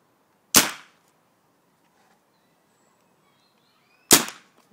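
A T68 pistol fires two sharp, loud single shots about three and a half seconds apart, each with a short decaying echo and near silence between them.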